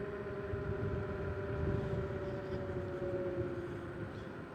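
A ZapRun W9 electric scooter climbing a big hill at speed, a steady whining motor hum with rushing wind noise, continuous and close.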